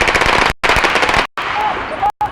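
Gunfire exchanged between a bus hijacker and police in Manila during a hostage standoff, heard as dense bursts of rapid shots in a TV news broadcast, broken by brief silent gaps, with voices mixed in.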